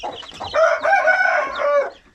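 A Hint-breed rooster in a cold-weather coop gives one loud, close crow lasting about a second and a half, preceded by a few short clucks and fading out at the end.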